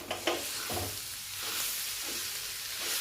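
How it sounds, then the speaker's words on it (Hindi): Mashed boiled potatoes stirred in a pan for samosa filling: soft repeated scraping and stirring strokes with a faint sizzle underneath, close and steady, no talk. "अब चलिए इसको अच्छी तरह से मिला लेंगे"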